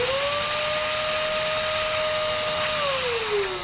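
A vacuum cleaner sucks up metal chips while an oil drain plug thread on a Honda TMX 125 motorcycle is repaired, a loud steady whine that holds its pitch, then drops slightly near the end.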